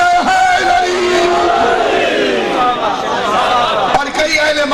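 A large crowd at a religious mourning gathering raises a loud, sustained chant of a slogan for Ali, voices massed together in a continuous roar.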